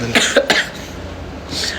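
Someone with a cold coughs twice in quick succession, close and fairly loud, a short rough double burst followed by quieter breathy noise.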